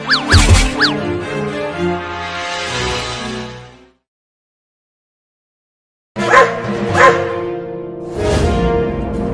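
Cartoon dogs bark in short bursts, loud and close, with a stretch of total silence in the middle before more barking resumes.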